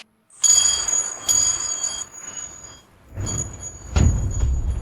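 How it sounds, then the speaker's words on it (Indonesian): An alarm bell hung on a net beside a lake rings out with bright metallic tones, sounding a couple of separate clanging bursts over low rumbling background noise. "Kapten Song, loncengnya bunyi."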